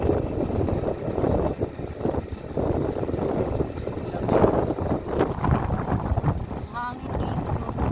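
Steady wind buffets the microphone in a continuous low rumble during a ride outdoors in Calamba City, Laguna, with a voice speaking faintly underneath.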